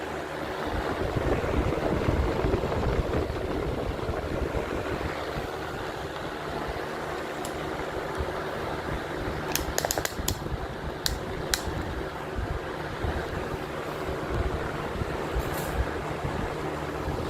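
An electric fan fitted with a swapped blade blows a steady broadband whoosh of air close to the microphone, constant throughout, with a few faint clicks.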